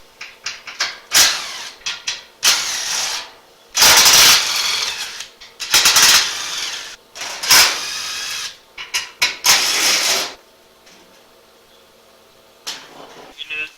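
Ratchet on a chain of swivel extensions backing out a 10 mm bolt on a Ford F-150 hood, loud rapid clicking bursts separated by pauses, ending with quieter handling sounds.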